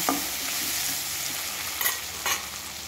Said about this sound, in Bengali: কচু আর বেগুন দুটোকে আমি লাল লাল করে ভেজে নেব